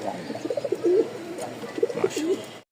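Pigeons coo repeatedly in soft, rolling phrases at close range, in a market setting where pigeons are sold; there is low background murmur but no clear talk.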